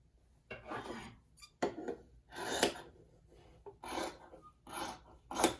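Scissors trim the fabric seam of a quilt binding strip up close, giving several short rasping, rubbing cuts separated by brief pauses, with no talk.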